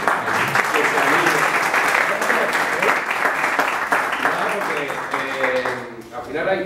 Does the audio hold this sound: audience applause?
yes